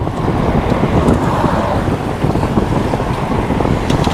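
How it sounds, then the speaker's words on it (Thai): Strong wind roars steadily across the microphone at an outdoor street food stall serving fried squid with garlic, a continuous loud rushing gust with no talking. "ลมแรงช้อนก็จะปิว"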